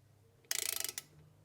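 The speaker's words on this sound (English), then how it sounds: "I'm just going to do it up by hand, just by holding the socket sort of thing." Ratchet on a socket tightening a bolt while a front differential locker is fitted to a Toyota Prado 150, a short quick run of about a dozen close clicks followed by one final click.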